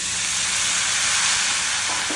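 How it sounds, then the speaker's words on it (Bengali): Water hits onions frying in a hot pan, setting off a loud, steady, close hiss of sizzling steam that holds for about two seconds. "পিয়াজ সিয়াজ ভাজাওতে পানি দিলে"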